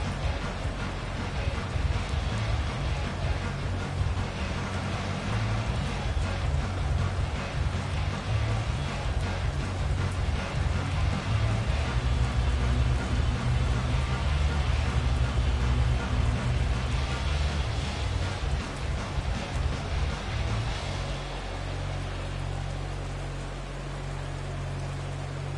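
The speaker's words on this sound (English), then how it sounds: "The rain set to continue as we are underway in the second half." Steady rain hisses through a Madden 24 football game between the Pittsburgh Steelers and Philadelphia Eagles, a dense continuous wash with low rumbling beneath, loud and unbroken, with faint crowd-like murmur but no distinct thunderclap.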